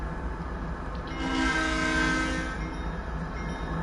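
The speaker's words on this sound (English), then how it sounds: "Oh, not the bell, the whistle." A steam-style train whistle blows once in a train driving video game on a run to Santa Fe, a sustained tone that swells and fades over steady engine rumble.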